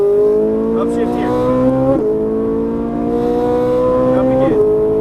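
A Ferrari 458 Italia's 560 hp engine pulls hard through two upshifts, its rising howl climbing steadily, dipping at each shift and climbing again. An instructor talks over the constant, loud engine note.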